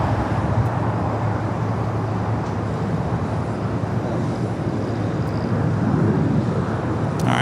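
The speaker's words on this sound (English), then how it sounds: "this is the Japan Dreamliner arriving before the Haneda flight" A Japan Airlines Boeing 787 Dreamliner arrives at Los Angeles International Airport, a loud, steady broadband roar of jet engines that holds throughout without any talk.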